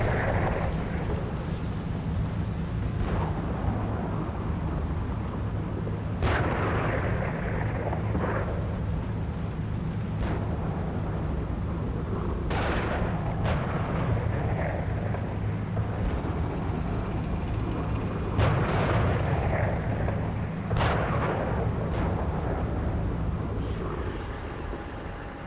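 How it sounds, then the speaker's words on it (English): A multiplayer tank battle game fills the scene with a steady roar of engines and rumble, punctuated every few seconds by sharp distant gunshots and booming artillery blasts, with no talking. "We're taking fire here."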